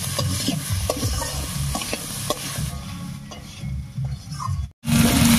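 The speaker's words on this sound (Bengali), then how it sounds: "এবার একটু আলুটাকে ভাজা ভাজা মতো করে নেব।" Potatoes sizzle in hot oil in a pan while a spatula stirs and scrapes them, a steady crackling fry with regular scraping strokes, close up, ending in a brief silence.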